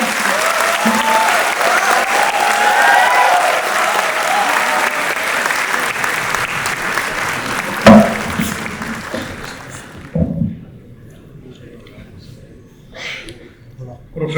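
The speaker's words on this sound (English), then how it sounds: "Let's welcome him on the stage with a huge round of applause" An audience at the BECon 2024 event at IIT Delhi breaks into loud, sustained applause welcoming a speaker onto the stage, with dense clapping that tapers off into a quieter hall with a few scattered claps.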